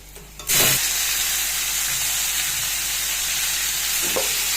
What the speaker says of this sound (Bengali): মাংসটা এবার দিয়ে দিচ্ছি